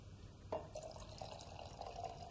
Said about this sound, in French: Le vin est conforme, je peux à nouveau resservir